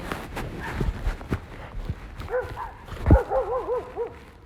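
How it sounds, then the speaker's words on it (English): Dogs bark at a passing dog during a bike ride, a few sharp barks and whiny yips in the middle distance over wind and rolling noise. "my dog's getting barked at by other dogs"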